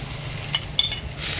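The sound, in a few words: garlic sautéing in a pan for sinigang soup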